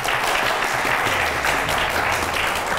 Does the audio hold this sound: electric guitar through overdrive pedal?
no